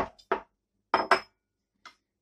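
A few separate clinks of a utensil against a bowl while ingredients are mixed in a home kitchen, spaced out, close and fairly quiet, with no talking.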